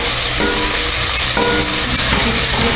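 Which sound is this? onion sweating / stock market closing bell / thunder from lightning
onion sweating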